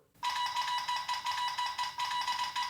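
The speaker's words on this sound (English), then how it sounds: "The Telegraph sound is different," The iPhone Telegraph notification tone on iOS 4: a rapid electronic clicking tone repeating in quick bursts, like a telegraph key tapping out a pattern, steady and fairly loud.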